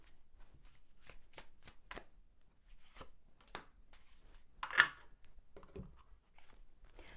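Tarot cards shuffled and snapped together in a quiet room, a series of sharp, faint riffling clicks spaced irregularly, with one louder flutter of cards near the middle.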